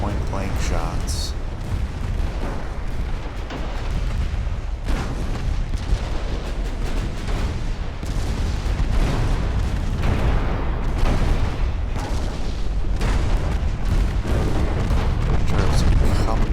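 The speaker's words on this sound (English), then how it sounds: "Shots." Naval guns firing in the warship game Ultimate Admiral: Dreadnoughts, deep booming shots rolling over a constant low rumble, repeated through the stretch, with a voice talking over the battle.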